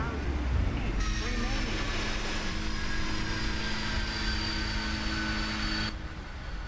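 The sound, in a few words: Boeing 747 landing in Prepar3D flight simulator video game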